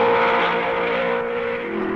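Racing cars from the 1955 Belgian Grand Prix roar past the pits, a loud, steady engine drone that slowly fades as they go by.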